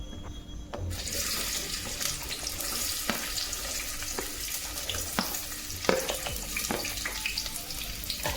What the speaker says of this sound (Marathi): कांदा छान लालसर परतून घ्यायचा आहे